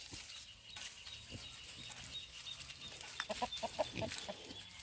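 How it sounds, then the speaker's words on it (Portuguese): Chickens in a farm pen they share with pigs give soft, scattered clucks at a moderate distance over quiet outdoor background noise, growing a little busier toward the end. "As galinhas aqui convivem no mangueiro."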